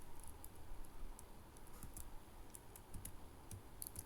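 Quiet, rapid clicks of code being typed on a computer keyboard, an even patter of keystrokes over a faint background hiss, with no talking.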